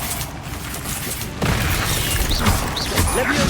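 A Bombarda spell blast in Hogwarts Legacy lands with a sudden loud burst partway through, followed by sustained crashing, rumbling debris and scattered mechanical clatter.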